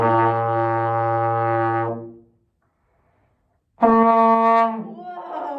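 A trombone sounds two brassy notes: a long steady tone, a short silence, then a brighter held note that wavers as it fades.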